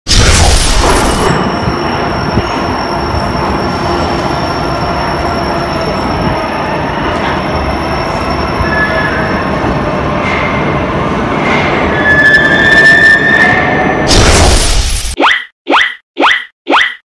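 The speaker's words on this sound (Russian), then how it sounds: "Ты прав, это поезд на магнитной подушке." A maglev train rushes past as a loud, steady roar with high tonal whines throughout, ending in a sudden cut followed by a few short separate bursts.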